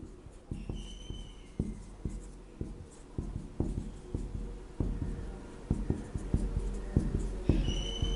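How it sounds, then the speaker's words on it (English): Pen scratching on paper while working out a multiplication problem, a close, steady run of short strokes and taps with brief pauses between them and no talking. "I'm just writing."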